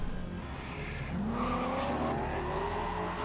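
A car in Cyberpunk 2077 drives with a steady engine roar, then a rising engine pitch and tire noise as it speeds up and slides, loud and continuous.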